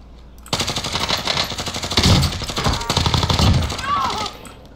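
A Grau assault rifle in Warzone fires in rapid, sustained automatic bursts, loud and close, with a brief pause midway before firing resumes; a voice speaks faintly over the gunfire.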